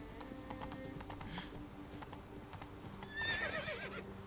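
Roach, a horse in a video game, gallops with steady rhythmic hoof clip-clops and a whinny partway through, set against continuous game ambience and a brighter burst of sound near the end.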